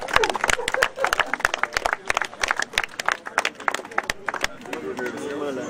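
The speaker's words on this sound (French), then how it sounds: "Et voilà la première pierre. Vous pouvez applaudir" Scattered, uneven hand clapping from a small audience at the laying of a foundation stone for a seniors' residence, the claps sharp and close with a little murmuring around them.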